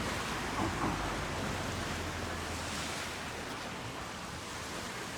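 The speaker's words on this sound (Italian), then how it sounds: "Il mare siciliano oggi è così." Sea waves wash onto the shore at Capo d'Orlando in the province of Messina, Sicily, a continuous broad roar of surf with gentle swells and some wind rumble.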